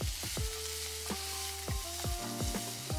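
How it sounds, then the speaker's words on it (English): Carrots sautéing in a pan at a cooking demonstration at a health fair, a steady close sizzle with sharp clatters and pitched utensil tones cutting in, no voices. "Saute this up."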